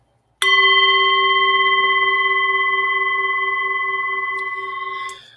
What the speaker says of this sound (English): I got my chiming bowl here too.